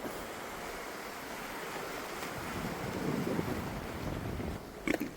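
Steady wind roars at a seashore fishing spot with surf washing behind it, a constant blustery rush and a few knocks near the end.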